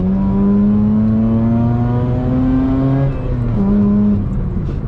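A Mazda RX-8 rotary engine fitted with a cheap aftermarket exhaust accelerates hard, its tone climbing steadily through the gears, then briefly dipping at a shift before rising again, loud and close throughout.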